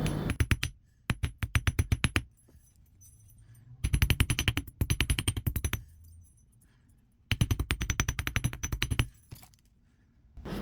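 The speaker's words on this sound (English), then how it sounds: "The wires will shift a bit when you hammer them" Jewelry wire being hammered to work harden it, sharp metallic taps fired in quick bursts of about a dozen strikes, with short quiet gaps between the three runs, close and with no talking.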